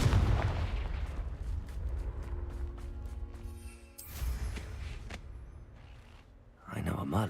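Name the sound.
Confringo blasting spell explosion in video game Hogwarts Legacy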